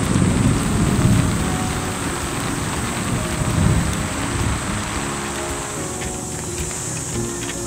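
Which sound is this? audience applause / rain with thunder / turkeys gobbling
rain with thunder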